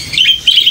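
A newly bought bird in a cage chirps in short, bright high-pitched bursts, two quick phrases up close with no talking.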